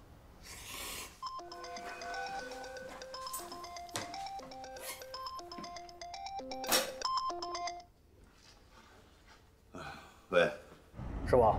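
A mobile phone rings with an incoming spam call, its ringtone melody repeating in bright tonal bursts for several seconds, followed by muffled rustling and brief movement sounds.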